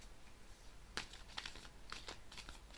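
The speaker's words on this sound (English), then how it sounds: "I have shuffled. I'll shuffle a little bit more." A Wild Unknown tarot deck being shuffled, giving soft papery riffles and crinkly card flicks in a few short bursts over a quiet background.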